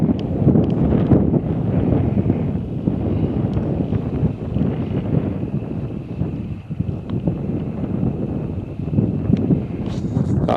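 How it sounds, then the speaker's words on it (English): Wind buffets a microphone at the top of a lake in a steady, loud, low rumble that barely lets up for the whole stretch, with no voices over it. "see if I can block out the wind"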